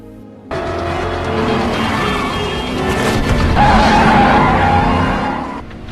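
Police car chasing a getaway vehicle in an action film: loud engines and screeching tires surge after a sudden start, with a squealing skid near the middle, then fade near the end.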